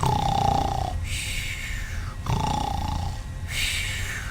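A person imitates snoring with two drawn-out breaths of rough, rattling texture, each falling in pitch, close and fairly loud, with no talking.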